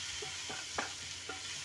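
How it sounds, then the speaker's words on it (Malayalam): Peas and other vegetables frying in oil hiss softly while being stirred, with a few brief scraping strokes against the pan, quiet and close with no speech. "വെജിറ്റബിൾസ് എല്ലാം ഒന്ന് ഫ്രൈ ചെയ്തെടുക്കണം കേട്ടോ"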